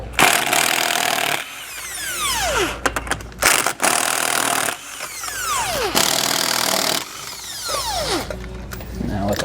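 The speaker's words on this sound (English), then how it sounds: "I'm going to go ahead and take my drill, and I'm going to hammer off these lug nuts" Loud hammer drill bursts repeatedly whir up and wind down, removing trailer wheel lug nuts, several long runs with brief pauses between, nearby and dominant.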